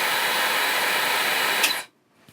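A hair dryer blows with its heat switched on, a steady broadband roar that cuts out abruptly as its built-in overcurrent breaker trips, leaving near silence and a faint click.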